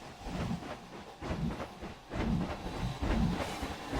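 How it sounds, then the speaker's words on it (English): A train in Planet Coaster rumbles and clatters past nearby with hissing, rhythmic clacking surges, steady and fairly loud throughout. "It was the train in the game with the binaural audio."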